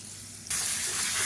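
Ground tomato hits hot oil for a curry-leaf brinjal curry, breaking into a loud, steady hiss of sizzling after a quieter moment, close and continuous with no talking.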